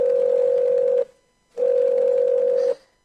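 A telephone tone sounds during a school stage play, two steady loud beeps separated by a short gap.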